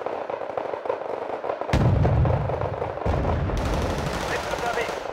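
Weapons fire in the Cold War strategy game Wargame Red Dragon, with bursts of automatic gunfire and heavy booms layered into a loud, continuous barrage, sharp onsets cutting in partway through.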